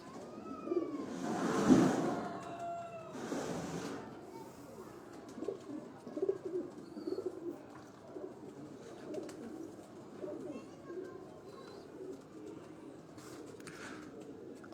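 Pigeons coo in a low, throaty rhythm, with a loud close burst early on followed by softer repeated coos amid faint background rustle and distant bird chirps.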